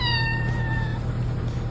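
Butter, a shy shelter cat, lets out a single drawn-out meow that fades after about a second, heard close against a steady low background hum.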